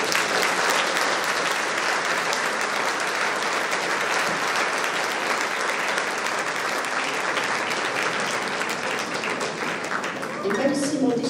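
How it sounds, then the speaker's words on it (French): Sustained applause from a large audience, steady and dense clapping throughout, with faint voices mixed in toward the end. "je crois qu'on peut les applaudir."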